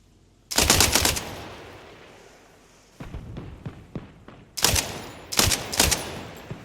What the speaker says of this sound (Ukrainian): На жаль, кулемет працює дуже голосно